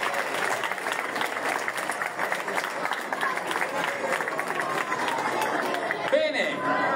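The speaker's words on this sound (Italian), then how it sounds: "L'applauso a loro, l'applauso alla categoria" Crowd applause at an outdoor youth cycling race award ceremony in Valdidentro, a steady continuous patter of many hands, with chatter and an announcer's voice audible underneath.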